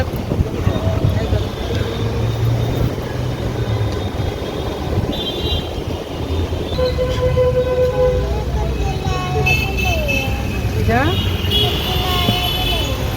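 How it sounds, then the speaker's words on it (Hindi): A taxi pulling off and driving through busy Mumbai traffic, with a continuous engine rumble, wind buffeting the microphone, and several car horns tooting nearby. Voices can be heard in the cab. "हमारी जो टैक्सी वो स्टार्ट होने वाली है"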